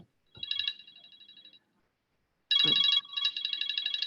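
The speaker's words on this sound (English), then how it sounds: "whoever's ringing in the background, if you could mute" A phone rings in the background of a large conference call: two bursts of an electronic ringtone, the first short and the second louder and longer after a pause, with no talk over it.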